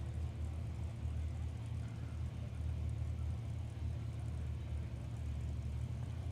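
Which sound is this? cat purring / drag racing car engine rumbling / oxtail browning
drag racing car engine rumbling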